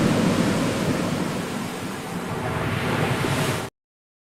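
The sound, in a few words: AI-generated sound effect of a ship and crashing waves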